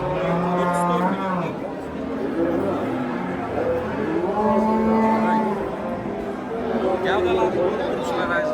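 Simmental cattle and young bulls at a busy Uzbek livestock market, with repeated low moos and calls mixed into steady crowd chatter and someone talking nearby throughout.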